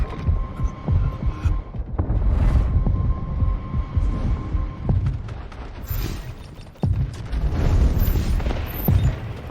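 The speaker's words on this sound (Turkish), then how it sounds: "Artillery barrage incoming." Artillery barrage pounding in Delta Force, a chain of deep booms and rumbling throbs over a steady hum, with dense low impacts rolling on through the whole stretch.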